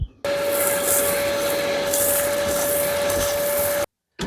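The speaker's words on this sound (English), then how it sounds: "Here we go with the vacuum." A shop vacuum runs steadily while a 1989 Chevy truck is cleaned out, a loud continuous whine with a constant tone, cutting off abruptly near the end.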